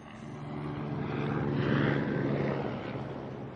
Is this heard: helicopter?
yes